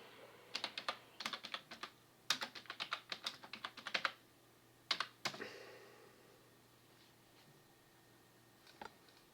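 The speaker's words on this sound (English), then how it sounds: "you can't actually see what I'm typing" Quick bursts of typing on a computer keyboard, clusters of crisp key clicks in irregular runs separated by pauses, close and fairly quiet with no voices.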